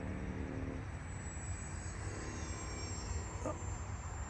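An E-flite Alpha Sport 450 electric RC plane makes a slow pass, its motor a steady droning whine held at a fairly even level over outdoor background noise.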